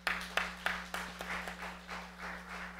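A church congregation claps together in a soft, fairly distant burst that starts with a few sharp claps and settles into a steady patter, over a low hum.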